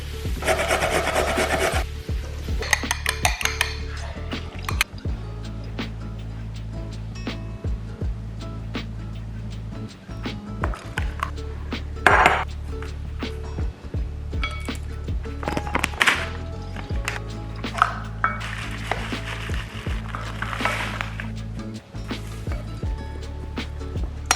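Ripe bananas are mashed in a bowl for banana bread, giving repeated rough scraping and rubbing strokes with squishy pressing, steady and close, with brief pauses between bursts.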